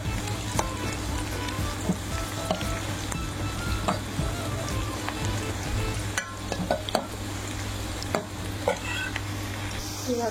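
Two cut chillies dropped into a hot frying pan sizzle steadily, a continuous hiss under a constant low background hum with light stirring clicks, no talk.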